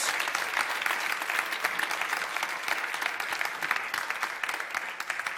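Audience clapping after a public lecture on citizenship at an open school event, a dense, steady round of applause heard alone at moderate distance.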